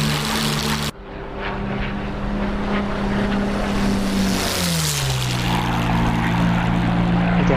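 Several WWII propeller aircraft engines at Pearl Harbor in a war video game roar loud and steady as they take off, their drone rising and falling in pitch as the planes climb, with no talking.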